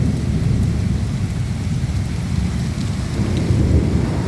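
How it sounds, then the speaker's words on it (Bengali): Heavy rain pours steadily during a thunderstorm, a dense, loud, unbroken roar of falling water with a low rumbling undertone. "দেখো প্রচণ্ড বৃষ্টি, সঙ্গে ঝড় হচ্ছে ও বিদ্যুৎ চমকাচ্ছে"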